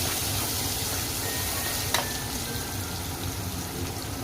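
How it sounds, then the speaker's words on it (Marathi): Onion frying in a pan for a prawn curry, a steady broadband sizzle running evenly throughout at moderate level, with one brief clink near the middle. "आता मी कांदा फ्राय करून घेते चांगला"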